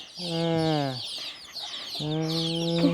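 Chickens clucking close by, two drawn-out, harmonic calls roughly a second apart, with faint rustling and background chatter in between.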